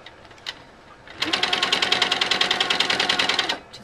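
Sewing machine running fast in a steady, even chatter of rapid stitches while quilting ribbon candy, starting after a quiet moment and stopping abruptly, near and clear with no talk.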